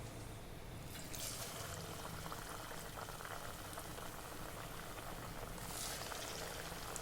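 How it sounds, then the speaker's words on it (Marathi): Chakli dough fries in very hot oil, giving a constant bubbling, fizzing hiss that swells slightly in brief bursts as pieces drop in, heard close and alone. "यामध्ये आता एक एक करून आपण चकल्या सोडून घेऊ."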